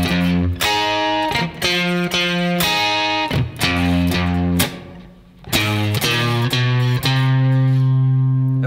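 An electric guitar plays an intro phrase with a distorted, effects-laden tone: bold chord stabs and single-note bluesy licks in a quick rhythmic pattern, loud and close, with one brief gap midway.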